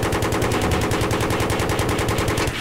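Rapid automatic gunfire in the video game Battlefield 3 comes as a loud, continuous stream of evenly spaced shots, heavy and close, with no talk over it.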